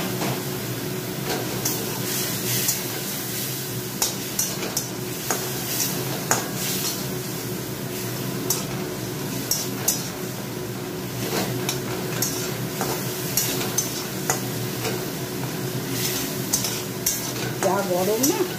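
Curry with half a boiled potato, garlic and onion sautéed with a splash of water and stirred in a pan, a continuous close sizzle with repeated scraping and clinking of the spatula, and faint background hum.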